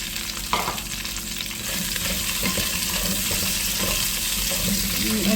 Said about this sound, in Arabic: نقلبهم لما ياخدوا ريحة البهارات اللي موجودة مكان اللحمة